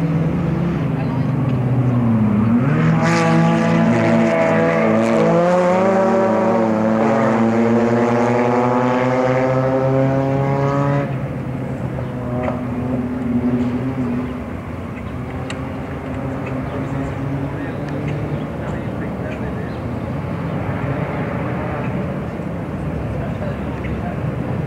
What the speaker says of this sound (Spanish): Son coches adaptados para carreras